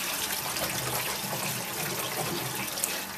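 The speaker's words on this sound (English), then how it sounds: "Got some water in the sink." Water rushes steadily in a kitchen sink fitted with a newly replaced tailpiece, a continuous broadband splashing and gurgling flow close by, with no one talking.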